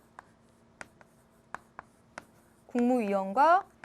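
Chalk or marker tapping and scratching on a board during a classroom lesson, a series of short faint strokes before a teacher's voice starts speaking.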